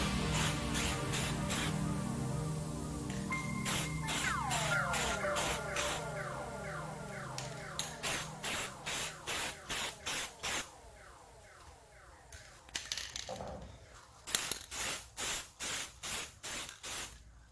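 Aerosol clear coat is sprayed onto a custom-painted Xbox One controller: a loud, steady hiss at first, then a series of short, evenly spaced spray bursts, with no voices.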